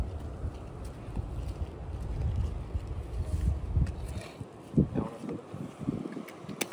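Wind gusting at N4 beach in Chennai near Kasimedu, a steady rough rumble buffeting the microphone throughout, with faint thumps and distant background noise.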